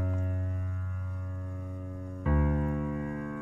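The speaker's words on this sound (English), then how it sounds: "All right, so I like to start off with the bass notes." Sustained, deep bass note pattern programmed in FL Studio for a trap-style sample, with a steady low tone that jumps to a new, louder note about two-thirds through, layered over held harmonic pads.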